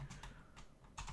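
A few quick, quiet keystrokes tapped on a computer keyboard while entering text in Autodesk Alias; soft clicks in small bursts with short pauses between them.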